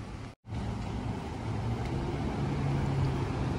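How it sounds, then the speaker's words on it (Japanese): A Hankyu bus on a long route bound for Hankyu Senriyama Station pulls up to a stop. Its engine gives a steady, fairly close rumble after a brief gap in the sound. "この長系統の阪急千里山駅行きがやってきました"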